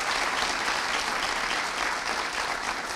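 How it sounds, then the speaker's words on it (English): An audience at a lecture breaks into applause, a dense, steady crowd clapping that holds evenly and fairly loud throughout. "A little round of applause for those who have contributed so much."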